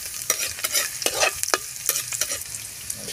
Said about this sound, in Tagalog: Magigisa na tayo ng bawang para sa ating repolyo.